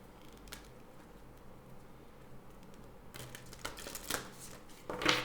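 Oracle cards being shuffled by hand during a tarot reading, a faint papery riffle and flutter that starts quietly and grows into louder, busier bursts of card slaps toward the end, with no talking.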